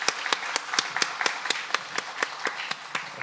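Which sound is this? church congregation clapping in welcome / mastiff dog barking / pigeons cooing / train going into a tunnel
church congregation clapping in welcome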